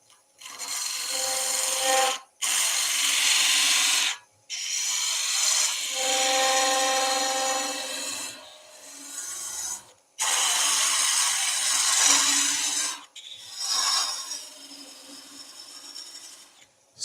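A parting tool cuts into a spinning wooden pencil pot on a lathe, giving a harsh, rasping scrape in several long passes separated by short pauses.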